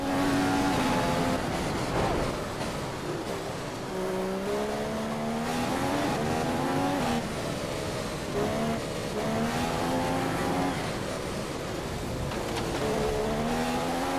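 Formula 1 race car engine from the F1 2015 racing game during Spanish qualifying, a loud continuous high-revving whine with rising and falling gear-shift sweeps, steady and close throughout with no talk.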